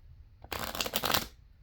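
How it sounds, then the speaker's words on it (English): A deck of playing cards is riffle-shuffled during a card trick that mixes the reds into the blacks: one quick crisp burst of flicking cards, close and alone, lasting under a second. "You want me to shuffle the reds into the blacks or the blacks into the reds?"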